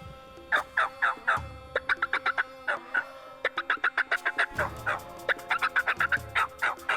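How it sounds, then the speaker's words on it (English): Rio Grande wild turkeys gobble repeatedly and loudly in rapid rattling bursts, with several birds overlapping and calling back and forth close by outdoors. "They're still gobbling right there."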